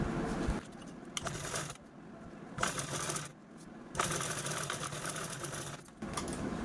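A sewing machine stitching piping onto a small scrap of reused fabric, running in several bursts of rapid mechanical whirring separated by short pauses, close and steady.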